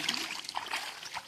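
Floodwater after heavy rain in a village, light splashing and trickling, fairly faint and close, with scattered small splashes.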